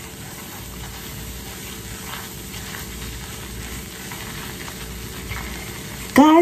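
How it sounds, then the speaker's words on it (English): Flour stirred into brown butter in a pan for Southern cream corn, a low continuous sizzle with a faint hiss throughout and a brief sharper scrape at the end. "So we're gonna go in with our flour. And we're going to add this in and stir it until it's smooth."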